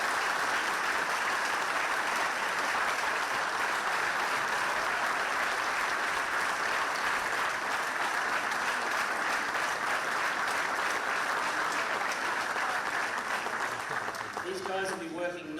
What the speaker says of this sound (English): I'd like you to give a huge round of applause to the organising committees